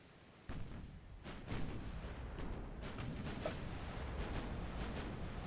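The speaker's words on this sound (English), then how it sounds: "Let's see the 11-inch guns." Heavy 11-inch naval guns firing in the warship game Ultimate Admiral: Dreadnoughts, a string of loud booming shots with rumbling tails that overlap into a sustained roar of gunfire.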